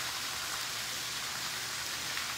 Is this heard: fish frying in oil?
no